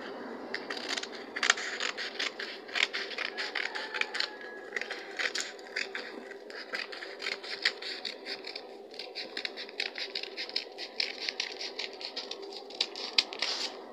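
Scissors snip through fabric along a traced cutting line during sewing, giving a steady run of close, crisp cutting and scraping clicks with no talk.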